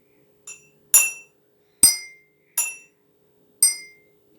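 A rigid glass cup struck by hand during an art-class musical-glasses activity: five sharp, ringing clinks at uneven intervals, close and clear against silence, each decaying quickly.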